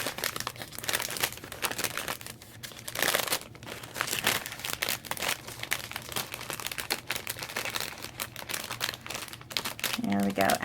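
Thick white cardstock is pushed down into a paper gusset bag, giving close, irregular crinkling and rustling of paper while a person talks over it.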